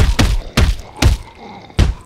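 In a video game, a trapped man is punched like a punching bag: four heavy, close thuds land in an uneven rhythm, each with a short grunting impact.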